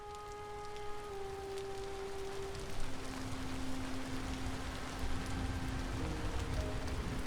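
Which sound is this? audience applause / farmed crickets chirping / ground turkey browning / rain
rain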